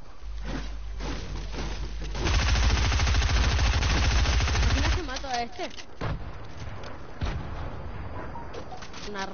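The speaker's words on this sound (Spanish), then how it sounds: "Un subfusil con 5 tiros." Rapid automatic gunfire from a submachine gun in a video game, a sustained loud burst of tightly spaced shots lasting a few seconds, framed by scattered single shots, game effects and voices.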